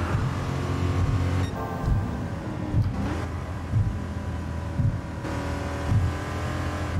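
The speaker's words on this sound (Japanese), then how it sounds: "スロットのさ、吸気音がやばいね。" A Ford GT in Gran Turismo Sport, driven in VR, gives a continuous close engine and intake roar that rises and drops through several gear changes, with no talking over it.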